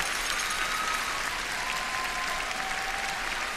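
A figure skating arena crowd cheers and applauds for Yuna Kim's short program to Danse Macabre, a dense, steady roar of clapping and shouting that holds loud throughout without pause.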